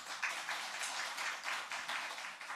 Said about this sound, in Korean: 우리 고등부 또 하나님께 우리 영광의 박수 돌립니다